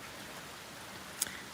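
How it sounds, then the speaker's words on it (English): Rain falls steadily outdoors among trees, a soft continuous hiss of drops at low level, with one brief sharper tap near the end and no talking. "it's raining"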